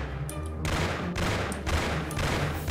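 Gunfire in the Mafia video game, loud bursts of shots recurring across the clip, with no talking.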